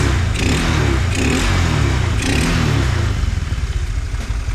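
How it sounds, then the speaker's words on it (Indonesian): Honda Vario scooter fitted with a PE24 carburetor and open filter box, engine running loud and close with gentle throttle blips, a steady rough drone that rises and falls slightly, no voices. "sekarang udah normal kalau saya gas pelan-pelan kayak gini, nggak nut-nutan lagi, nggak ngok lagi"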